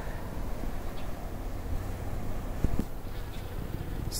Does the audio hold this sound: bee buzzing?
yes